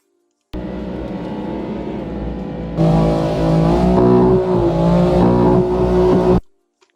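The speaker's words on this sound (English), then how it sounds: "I feel like the rev limiter could use a little bit more punch." A BMW S55 engine in a racing video game drones at steady revs, then jumps to a harsher, louder whine and holds near the rev limiter with a slight warble before cutting off abruptly.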